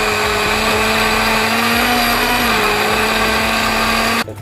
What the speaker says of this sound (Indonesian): Lanjut kita blender.